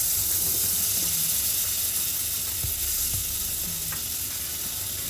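A few pieces of butter sizzle in a hot kadai on a gas stove, giving a steady, close, continuous hiss with faint crackles and no talking.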